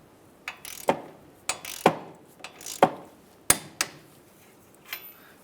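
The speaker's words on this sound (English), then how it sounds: "I'm going to go ahead and tighten down or torque down our tie rod castle nut" Torquing a tie rod castle nut on a 2007-2015 Mazda CX-9, a series of sharp metallic ratchet clicks and clanks in irregular bursts, close and distinct.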